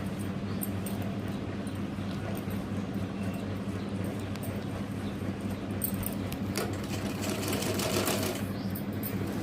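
A sewing machine runs in a steady, rapid stitching rhythm close by, sewing iron-pressed pleats into a long frock with brief pauses and small clicks, no talking.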